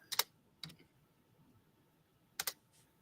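Typing on a computer keyboard, a few short bursts of close, crisp key clicks separated by pauses in an otherwise quiet room.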